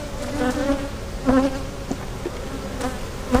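Honey bees buzz around an open beehive being checked for European foul brood, a dense, wavering drone of many insects with individual bees swelling loudly past nearby.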